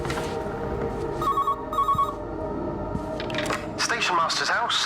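Old-fashioned telephone ringing in an English village house in the video game Everybody's Gone to the Rapture, two bursts of trilling bell over a droning ambient score, with a voice speaking alongside.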